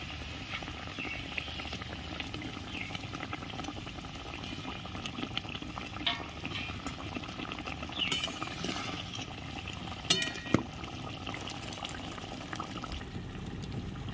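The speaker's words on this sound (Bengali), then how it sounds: "ঝোল ভালো মতন ফুটে উঠেছে ভেজে রাখা পাবদা মাছ দিয়ে দিচ্ছি" A gravy with fried pabda fish simmers in a pot for a yogurt-based doi pabda curry, giving a steady close bubbling and burbling with a few faint knocks. No talking is heard.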